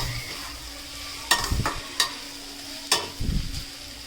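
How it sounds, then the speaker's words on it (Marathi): Vegetables for an Agri-Koli style fresh cashew dish are sautéed in a pan until browned: a soft steady sizzle broken by a few distinct scraping stirs of the spoon, no talk. "हे सर्व पदार्थ जे आपण भाज्या घेतलेल्या आहेत सर्व ह्या पूर्णपणे आपल्याला खरपूस लाल रंग येईपर्यंत चांगल्या परतवून घ्यायच्या आहेत"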